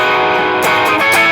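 Dense electric guitar strumming through the chorus section of a song, loud and continuous with sharp accented strums in the second half.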